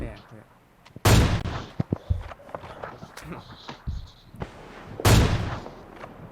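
Two loud, sharp gunshots ring out about four seconds apart in the mobile game PUBG New State, with smaller thuds and footstep-like taps in between.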